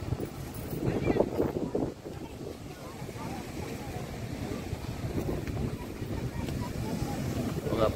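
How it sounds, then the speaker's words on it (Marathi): High-tide sea waves roll in at Chivla beach in Malvan, a steady, rough wash of surf mixed with gusty wind buffeting the microphone, loud and continuous for the whole stretch. "लाट पण एवढ्या मोठ्या येत आहेत"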